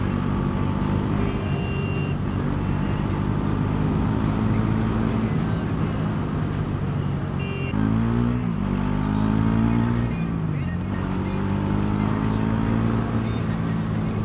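A Bajaj Pulsar NS400 motorcycle running on XP-95 petrol, its engine droning steadily up close, with a rising pitch sweep partway through as it pulls harder; a rider talks over it.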